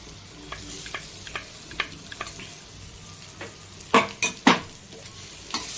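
Grated coconut is dry-roasted and stirred in a pan, soft sizzling broken by scraping strokes of the spoon that grow into a few loud scrapes near the end, close and without speech.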